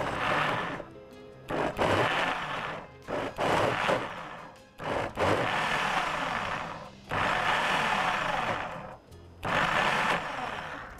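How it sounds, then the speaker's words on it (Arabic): An electric kitchen blender whirs through a chicken luncheon mixture in repeated short pulses, loud bursts of motor noise separated by brief pauses, five or six in a row. "ندي كده ضربات متقطعه عشان نريح الخلاط"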